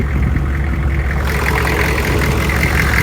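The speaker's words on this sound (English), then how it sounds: "You still hear a little bit of an exhaust leak." A 6.5L diesel engine in a dually truck idles steadily and close by, its deep rumbling chug overlaid with a faint hissing puff from an exhaust leak, running continuously with no voices.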